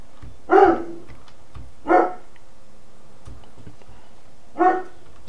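A dog barks three separate times, single sharp barks spaced a couple of seconds apart, fairly close and clear over a quiet room background with no talking.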